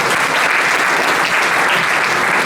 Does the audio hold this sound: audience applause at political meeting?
yes